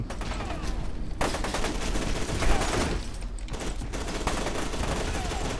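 Rapid video game gunfire from F.E.A.R. 2 crackles in loud, dense bursts broken by brief gaps, with a faint voice underneath.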